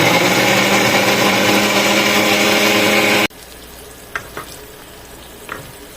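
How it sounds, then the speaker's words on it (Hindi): Coarsely chopped onions frying in cooking oil in a kadai give a loud, dense sizzle for about three seconds, then drop to a faint hiss with a few light scrapes of stirring. "कढ़ाई में डाला कुकिंग ऑयल और प्याज मैंने काट लिया, पूरा मोटा मोटा काटा। इसको सबसे पहले फ्राई करेंगे।"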